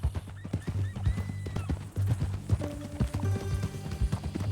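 A horse in Red Dead Redemption 2 whinnies with a rising, shrill neigh over a steady clip-clop of hooves, close and fairly loud, with a soft tonal game music bed underneath.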